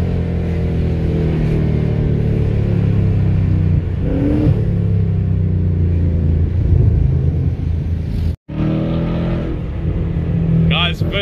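A Ford Mustang S550 with an X-pipe exhaust, a loud deep engine rumble with rising revs and throttle swells, heard from inside the car, with a short break near the end.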